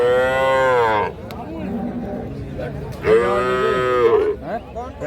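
Holstein Friesian cow at a cattle market lowing twice in long, loud, drawn-out moos close by, with market chatter and voices murmuring between the calls.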